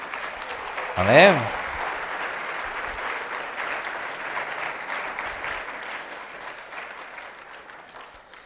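A church congregation claps together during a Spanish-language sermon, a sharp burst swelling into sustained, steady applause that gradually fades, with a preacher's voice speaking over it.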